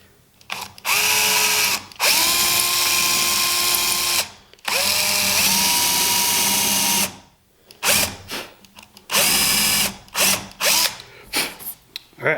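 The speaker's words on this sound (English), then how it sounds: "And then when I drill, I'm going to rock the drill back and forth a little bit" A power drill whirs in several bursts while drilling into wood, revving up and winding down between pauses, close and loud with a ratcheting edge.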